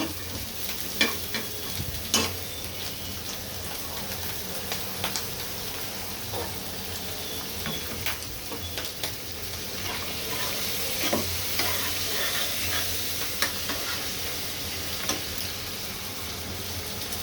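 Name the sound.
prawns frying in oil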